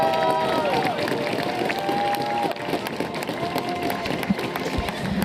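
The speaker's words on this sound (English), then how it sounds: "Ladies and gentlemen, applause for the podium of the female 100-meter race." A stadium crowd applauds and cheers the women's 100-meter podium at the Spartan 100m World Championship. The broad, continuous crowd roar sits at moderate level, with a voice carrying over it.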